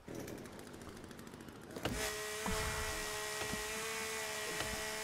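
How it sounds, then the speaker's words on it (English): A chainsaw revs up in the survival video game The Forest, starting with a sudden burst and settling into a steady motor whine with occasional sharp surges, loud and close and heard alone. "I'll try again with a chainsaw."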